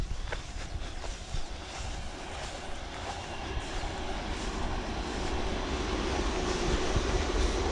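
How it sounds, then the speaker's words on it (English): A train rumbles past, its low roar building steadily and growing louder over several seconds, with no talking. "Oh, train."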